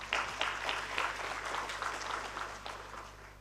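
Audience applause at an ISAA national working meeting in a hotel ballroom, a steady burst of clapping from a large crowd that fades gradually over a few seconds.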